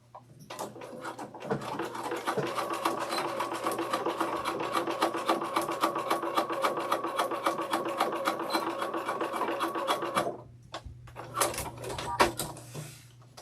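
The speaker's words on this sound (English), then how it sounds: "So I'm going to just stitch up here." A sewing machine runs in a continuous rapid stitching stretch while sewing a slip pocket, then stops, followed by a few short bursts of stitching.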